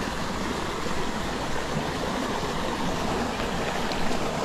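Waterfall pouring into swirling eddies at its base in a trout stream, a loud continuous broadband rush of water that stays steady and close for the whole stretch, with no voices.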